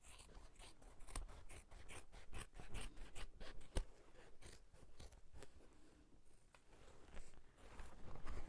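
Scissors snip through fabric during tote bag sewing in a quick run of crisp, close cuts, followed by slower scattered snips and soft rustling.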